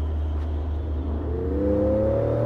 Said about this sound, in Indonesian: jalan kosong kita pakai sport mode lagi kita gas